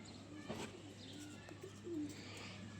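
Wild pigeons of a breed kept in Kamra, Attock district, give soft, low coos and brief chirps. The calls are faint and close, set over a steady background hum.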